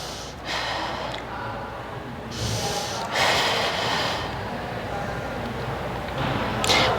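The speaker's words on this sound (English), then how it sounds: "Inhale down, exhale up." Breathing during a mat Pilates workout: several audible inhales and exhales come as soft, airy bursts over steady room noise, with one stronger breath near the end.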